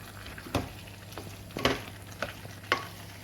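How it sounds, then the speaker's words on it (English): Plant-based sausage and sweet potato are stirred in a pan over a gentle sizzle, with four distinct scraping strokes spaced about a second apart. The sound is close and fairly quiet, with no talking. "Give that a good mix. Just turn the fire up a little bit."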